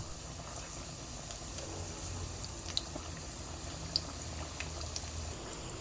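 Breadcrumb-coated milk rice cakes deep fry in a pan of hot oil, giving a steady, close bubbling sizzle with a few sharper pops, and nobody speaking.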